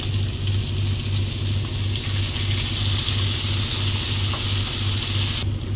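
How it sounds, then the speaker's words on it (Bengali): Frozen tomato pieces hit a hot pan with frying garlic, giving a steady, loud sizzle and hiss that runs unbroken under a low rhythmic hum. "এই ফ্রোজেন যে টমেটো চতুর সাইডে আমি এটা দিয়ে দিব"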